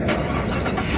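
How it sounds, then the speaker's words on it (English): A pickup truck engine starting by remote start, with a loud, steady mechanical rumble filling the whole second. "the truck also has remote start"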